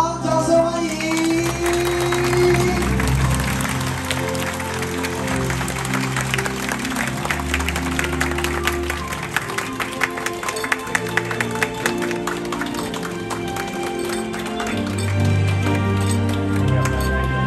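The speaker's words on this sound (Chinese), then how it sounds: "让我们用我们最热情、最浪漫、满满祝福的掌声来欢迎我们的新人进场，掌声欢迎" A wedding crowd in Taiwan claps steadily to welcome the bride and groom's entrance, sustained applause blended with loud music throughout.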